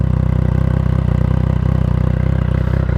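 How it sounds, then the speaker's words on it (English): A motorcycle with a modified exhaust baffle idles close by with a deep, throaty exhaust, its rapid pulsing beat loud and steady throughout. "So we give it a start up. So I think it's a bit of a deeper noise"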